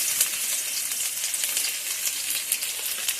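Chopped garlic frying in hot oil with dried chillies in a pan, a loud, steady close sizzle with no one speaking.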